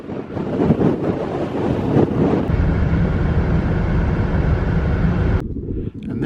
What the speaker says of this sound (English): oh, it's very windy.